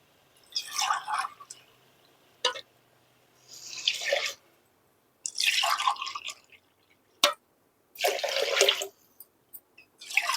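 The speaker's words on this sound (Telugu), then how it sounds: "దీంట్లో ఇప్పుడు మూడు గ్లాసులు వాటర్ పోసుకున్నాం" Three glasses of water poured into a pot of washed rice for jeera rice, heard as several separate splashing pours with quiet pauses and small clinks in between.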